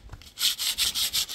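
Sandpaper rubs back and forth over wood in quick, even strokes, about five rasping passes in a row, close and clear with no talking.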